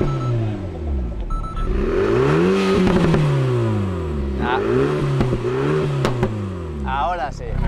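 Race car exhaust in Sport mode, fitted with 3D-printed exhausts, revs loudly in repeated rising and falling sweeps with sharp pops between them, while people talk over it.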